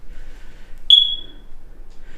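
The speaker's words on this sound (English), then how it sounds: "Oop, they need to get their smoke detector fixed." A single short, sharp, high electronic chirp from a smoke detector inside a quiet wilderness warming shelter with firewood, sounding once against near silence.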